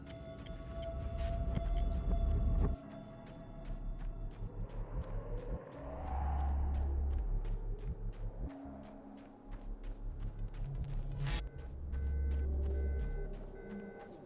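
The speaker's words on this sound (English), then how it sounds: "This gotta be the alarm for the coolant." Repeating alarm from the coolant system in the video game Alan Wake's American Nightmare: rapid pulsing tone bursts recurring in two runs over a heavy low rumble and droning game ambience, with no talking.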